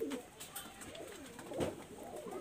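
Pigeons coo softly in a loft, a few low throaty warbling calls rising and falling, faint and close, with a light background hiss.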